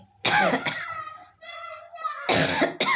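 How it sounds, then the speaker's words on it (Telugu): A voice speaks between a few sharp, loud coughs from a cold, close to the microphone, a pair at the start and another pair near the end. "నాకైతే భలే జలుబు ఉందండి దగ్గు వస్తుంది"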